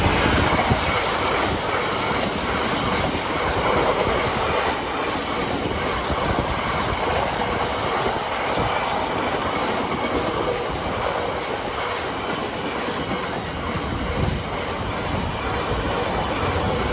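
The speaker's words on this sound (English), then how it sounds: "Here's a freight train." Freight train rolling past the Heyworth level crossing, a steady loud rumble of wagons and wheels that holds for the whole stretch with faint clatter, no talk.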